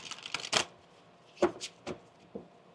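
Tarot cards being shuffled in short, crisp riffling bursts, a cluster early on and then a few separate flicks spaced apart, close and moderately loud with no talking.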